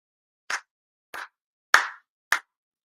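Four distinct hand claps at a Japanese monthly appreciation prayer service, evenly spaced about half a second apart, crisp and fairly close, with no talking in the quiet hall.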